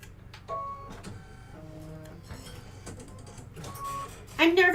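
A sewing machine stitching a seam placement line for Mylar in white thread: short mechanical whirring runs with stops between them, close and moderate, ending in a louder burst, with a voice faintly present.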